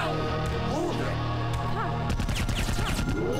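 Rapid game gunfire aimed at the player in the video game Iji, a dense burst of shots and impacts over busy game music, growing harder and more crowded in the second half.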